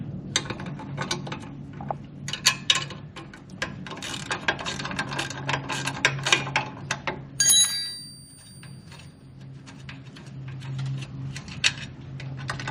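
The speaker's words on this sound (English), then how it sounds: "this is where the 10 mil wrench" A ratchet fitted with a 10 mm wrench socket works a bracket bolt on a Can-Am Canyon XT, giving close, rapid clicking in uneven bursts with a brief metallic ring partway through.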